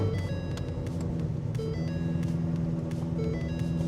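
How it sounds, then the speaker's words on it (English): A Ford Mustang GT350 engine idles steadily at close range, a continuous low rumble with faint intermittent beeping tones over it. "The only thing left to do is to turn on the car, raise it, and then hope that there's no more oil leaks."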